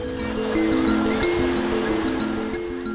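Surf washes steadily onto a beach in Dakar, a continuous broad hiss of waves, with tonal music playing over it.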